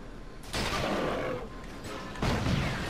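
Heavy secondary-fire gunshots from a weapon in the video game Resistance 3, two loud sustained bursts of blasting noise close up, with a brief lull between them.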